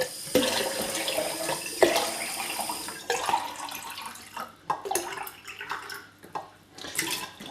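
Water runs and splashes into a jug in uneven bursts, starting steady then breaking into short pours and clinks, close by.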